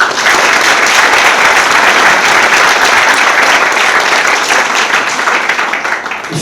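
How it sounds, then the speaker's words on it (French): Loud, dense applause from a conference audience, sustained throughout and tapering slightly at the end. "On peut les applaudir."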